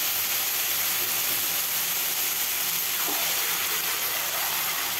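Mutton pieces, marinated and browned red, sizzling steadily in a hot pan; a dense, even hiss with no voices over it.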